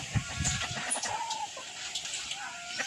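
Chickens cluck softly at a moderate distance amid faint outdoor background noise, with a few scattered bird calls.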